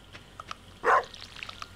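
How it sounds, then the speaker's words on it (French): A single short dog bark from the farm video game Stardew Valley stands out, close and clear over faint game sounds and small clicks. "Oui, couchez le chien."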